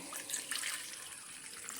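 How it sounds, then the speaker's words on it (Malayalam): Water pours steadily into a bowl with a soft, continuous splashing trickle, quiet and close, with no talking. "അതിൽ കുറച്ച് വെള്ളം ഒഴിച്ച് വെക്കാം"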